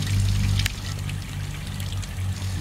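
Water runs steadily from a hose into a test tank for a 3 horsepower Sears outboard motor, a continuous pouring and trickling sound with a low background rumble.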